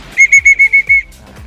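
A large blue pigeon whistle blows six rapid, loud, evenly spaced toots of a single steady pitch, close by, then stops.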